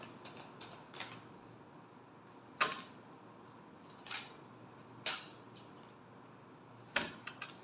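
Tarot cards being shuffled in a quiet room: several short crisp riffling snaps spaced a second or two apart, close and fairly soft, with faint rustling between them.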